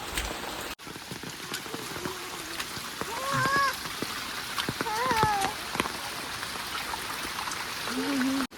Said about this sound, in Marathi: इथे पाऊस एवढा जोरात आला ना की चालायला होत नाही